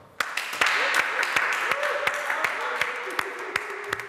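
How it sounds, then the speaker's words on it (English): A room of dance competition finalists giving themselves a round of applause: crisp, scattered claps with distinct individual hits, moderately loud and close, running steadily throughout. "Give yourselves a round of applause"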